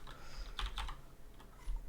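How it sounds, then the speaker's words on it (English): Computer keyboard typing, a few quick bursts of key clacks at close range with quiet gaps between, no talking. "Sorry about the noise of the keyboard."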